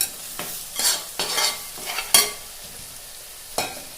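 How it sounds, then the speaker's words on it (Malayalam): A spoon stirs Kerala-style country chicken curry after salt goes in, giving several distinct scraping sweeps against the pan over a soft sizzle, close and clear with no talking. "അപ്പോൾ ഉപ്പും കൂടെ എല്ലാം കൂടി നമ്മൾ ചേർത്ത് മിക്സ് ചെയ്തിട്ടുണ്ട്."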